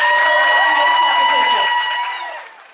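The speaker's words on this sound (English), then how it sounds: "please give a huge round of applause for that" Audience applause at a rockabilly pin-up contest at a riverside campground, a dense wash of clapping under an announcer's voice, steady and loud before fading away near the end.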